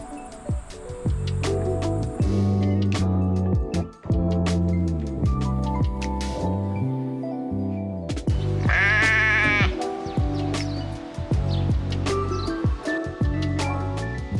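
Sheep bleat repeatedly and loudly near a village cafe on a New Zealand farm trail, several animals calling in overlapping wavering cries one after another with little pause.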